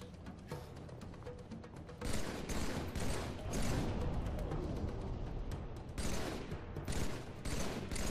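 Continuous gunfire from a weapon in Halo 3 on Xbox 360, dense rapid shots that grow louder after the first couple of seconds and keep going with no break.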